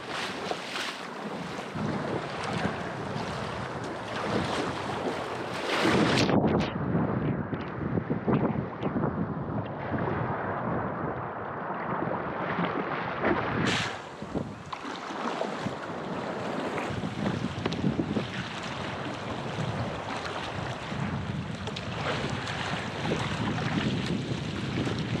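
Stiff wind at sea buffeting the microphone from a small boat near coastal caves, a loud continuous roar with gusting surges and faint water wash beneath, running steadily throughout.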